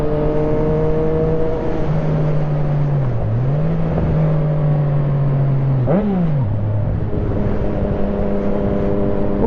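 A Yamaha MT-09 motorcycle engine drones steadily while riding, its pitch dipping and climbing with throttle changes and a sharp rev near the middle, loud and close with no talk over it.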